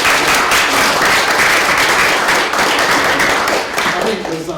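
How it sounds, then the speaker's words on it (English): Loud, sustained applause from a seated audience at a family business panel event, dense steady clapping close to the listener that starts at full strength and tapers slightly near the end. "giving our panellists a round of applause"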